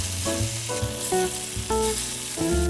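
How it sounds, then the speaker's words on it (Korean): Tofu pan-frying in oil in a preheated stainless steel pan, a loud close sizzle broken by repeated scraping and clinking as the pieces are moved and turned. "기름에 두부를 앞뒤로 노릇하게 구워줘요."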